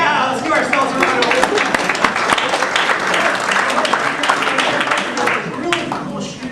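An audience applauds steadily at a leadership gathering, dense clapping holding for several seconds with some voices mixed in.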